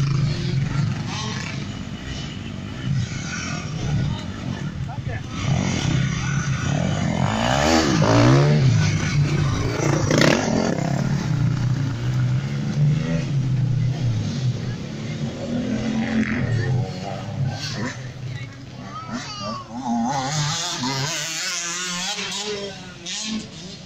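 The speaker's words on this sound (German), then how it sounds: "Ja, Motor läuft wieder." At a motor club event, an engine growls and revs in rising and falling surges over a long stretch, loud and close, with voices and background noise mixed in.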